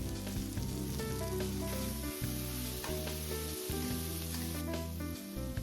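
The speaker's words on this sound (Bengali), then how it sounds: "তেল দিয়ে সাদা জিরে দিয়ে তারপরে পেঁয়াজটা দিয়ে ভালোভাবে করে ভেজে নিলাম।" White cumin seeds and onion frying in hot oil in a home kitchen pan, a steady close sizzle with stirring clatter running throughout, no voices.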